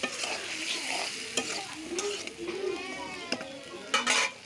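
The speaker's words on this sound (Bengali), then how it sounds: "সিম আলু দিয়ে আমি ভালো করে নেড়ে নিচ্ছি যেন মশলাগুলো সিম আলুর সঙ্গে ভালো করে লেগে যায়" Beans and potatoes with spices being stirred in a pan, a spatula scraping and knocking against the metal with several sharp clicks over a steady low sizzle, close and moderately loud.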